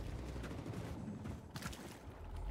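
Gunfire from a large enemy in the first-person shooter Wolfenstein II, a dense stretch of rapid shots and impacts layered over a loud, constant game soundscape, with no talking over it.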